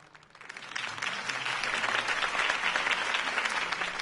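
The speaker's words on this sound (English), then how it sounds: "If only Mr. Wayne, my campaign's largest backer, could have heard that applause" A video-game crowd breaks into applause after a campaign speech, a dense, even wash of clapping that swells quickly and holds at moderate level.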